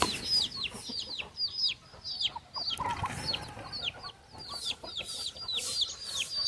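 Several hens cluck and chirp in quick, overlapping calls close by, steady and busy throughout with brief pauses.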